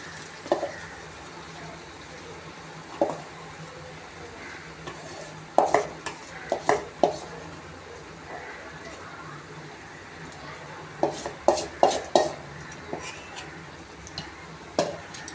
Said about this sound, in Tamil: இப்போ இந்த மாவை எடுத்து அந்த நெய்லேயே ஊற்றணும்